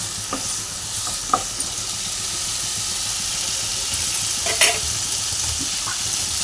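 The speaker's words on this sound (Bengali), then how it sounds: "মশলার সঙ্গে এইভাবে সাঁতলে নেব" Spices fry in a pan for a prawn and elephant-foot yam curry, a steady close sizzle and hiss with a few scraping stirs and clinks of the spoon, and no voices.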